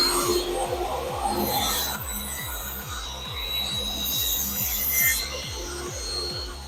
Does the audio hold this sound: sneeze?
no